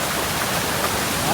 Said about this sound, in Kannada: ಎಲ್ಲಿ ನೋಡಿದ್ರು ಫಾಲ್ಸ್ ನೋಡಿ, ಕೆಳಗಡೆ ನೋಡಿದ್ರೆ ಅಷ್ಟೇ.